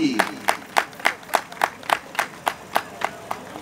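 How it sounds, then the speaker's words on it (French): An outdoor political rally crowd claps in a slow, steady unison rhythm, about eleven evenly spaced loud claps, with faint background murmur. "que je vous invite à applaudir"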